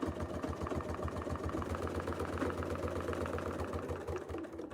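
A sewing machine stitches curved arcs on a quilt, guided along a ruler, giving a continuous rapid rhythmic hum with no break.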